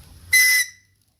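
A small plastic survival-kit whistle, the kind packed with Tops knives, gives one loud, shrill blast of about a third of a second, close to the microphone, then cuts off into silence.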